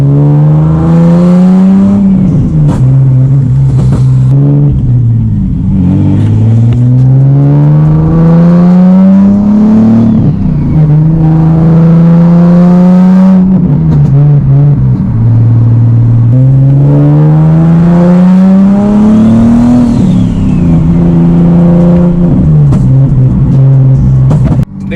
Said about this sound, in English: The car is spooling a little bit later than it should just because I have such a big exhaust leak